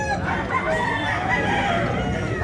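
A young stag rooster at a Cebu fowl market crows over steady market noise, its call close and sustained across the moment without speech.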